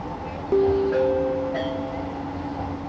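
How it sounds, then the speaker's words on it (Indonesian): On an LRT Jabodebek Bekasi Line train, a pair of clear electronic chime tones rings out as the doors close, each note sustained and fading over a low carriage hum. "Doors are closing. Please stand clear of the train doors."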